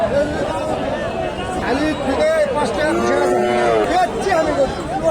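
Several local bulls moo in overlapping, drawn-out calls across a busy cattle market, with a steady crowd murmur and scattered voices underneath throughout.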